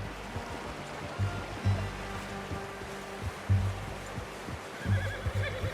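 A horse whinnies and snorts amid hoofbeats and a low rumbling ambience in the video game Red Dead Redemption 2, with several short bursts spread across the clip.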